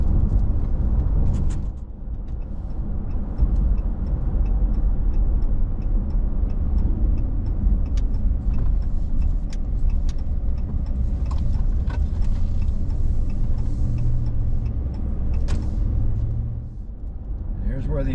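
Car driving up a wooded road through oak and pine forest, a steady, loud engine and road rumble heard from inside the vehicle, continuous throughout.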